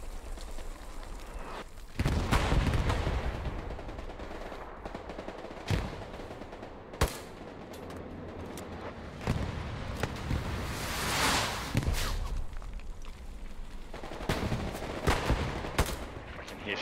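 Bursts of rifle and machine-gun fire crack out during a Hell Let Loose battle, some close and sharp, others distant, spread over several seconds with quieter gaps between volleys.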